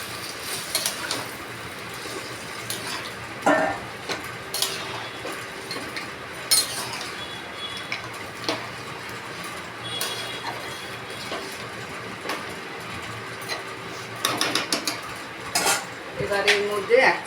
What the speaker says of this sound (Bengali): এবার ডালটাকে ছেড়ে দেবো।